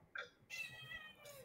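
A cat meows indoors, a short high cry followed by a longer drawn-out meow and a faint third call, fairly close and alone without talk.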